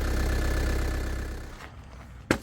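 A loader's diesel engine runs steadily up close with its air conditioning on, a low rumbling idle that fades slightly before a brief knock near the end.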